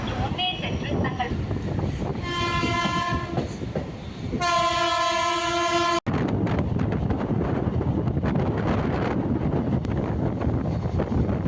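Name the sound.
local EMU electric train running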